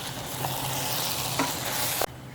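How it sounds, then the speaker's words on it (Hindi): Boiled macaroni and spaghetti stir-fried in a hot pan give a dense, close sizzle with a few soft scraping stir sounds, cutting off abruptly near the end. "अब आप इसे भी 3 से 4 मिनट के लिए फ्राई कर लें, इसके साथ मिक्स करके।"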